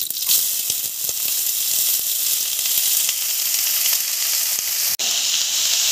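Cabbage fries in oil in a kadai over high flame, a loud bright unbroken sizzle up close with faint stirring clicks and one brief dropout near the end.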